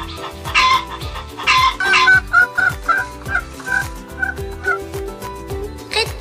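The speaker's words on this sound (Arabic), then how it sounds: "دجاجة،" A series of clucking and gobbling fowl calls, loud and close, over a steady musical backing with a rhythmic beat.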